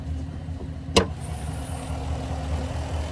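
Engine of a 2024 Chevrolet Tahoe LT with a 5.3-liter naturally aspirated V8, idling with a steady low rumble, one short sharp click or knock near the start and a faint high whine afterward, no talking.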